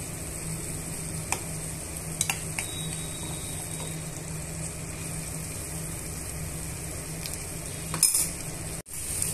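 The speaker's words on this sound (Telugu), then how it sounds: "స్టవ్ సిమ్లో పెట్టుకొని మనం ఫ్రై చేసుకోవాలి।" Chicken with garlic cloves fries in a pan over a low flame, giving a steady, moderately loud sizzle with a few light clinks of a stirring spoon and a brief scrape near the end.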